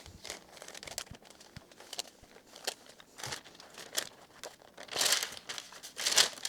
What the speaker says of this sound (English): I'm going to use a little bit of parchment paper to press.